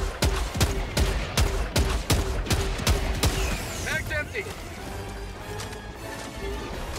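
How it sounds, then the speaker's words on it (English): Video game Helldivers 2 gunfire against Terminid bugs: a rapid burst of loud sharp shots emptying a full magazine, followed by scattered impacts, creature noises and ambient game rumble. "just unload on them. Complete mag dump."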